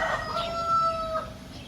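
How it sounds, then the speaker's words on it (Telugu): A black-feathered rooster about eleven months old crows once, a drawn-out tonal call held steady for about a second, clear and moderately near against a faint background with no talking. "నా ఈ పుంజు గురించి చెప్పండి."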